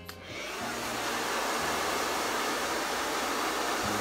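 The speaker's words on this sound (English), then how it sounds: "Let's start blow drying." A hair dryer blows steadily and loudly on hair during an at-home salon blowout, switching on after a brief click and holding a continuous airy roar throughout.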